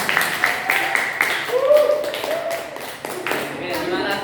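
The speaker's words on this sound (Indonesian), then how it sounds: "Izinkan saya memberikan tepuk tangan untuk Anda semuanya." Hand claps ring out at a school teacher-training session in Indonesia, a scattering of sharp claps over a speaking voice.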